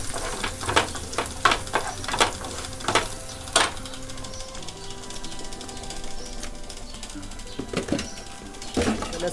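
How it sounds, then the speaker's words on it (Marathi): Garlic fries in oil until golden, a steady sizzle punctuated by sharp spatula scrapes and taps in an uneven rhythm, loud and close with no voices. "चांगला तेलात लसूण आपण चांगली गुलाबी करून घ्यायची आहे"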